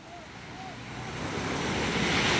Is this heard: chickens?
no